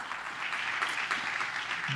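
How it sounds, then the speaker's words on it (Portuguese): A church congregation applauds during a service, a continuous wash of clapping heard from a moderate distance and fairly soft throughout. "dê uma grande salva de palmas a Ele nessa noite"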